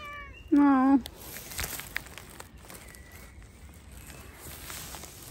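A cat gives one short, clear meow up close, followed by soft rustling and faint footsteps outdoors in the early morning.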